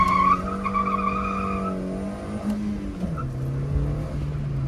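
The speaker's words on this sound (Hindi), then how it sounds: "टॉर्क के वजह से और हाई एक्सेलरेट करने की वजह से टायर तो स्पिन हो रहा है बहुत ज़्यादा" A Hyundai Santro on new Yokohama performance tyres launches hard, engine revving steadily with a loud rising tone that drops as the tyres spin and scrub on the surface, a continuous close roar without speech.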